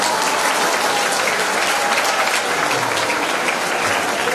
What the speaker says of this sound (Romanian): Hai să-l aplaudăm.